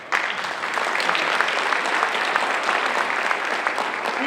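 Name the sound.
audience applause for parents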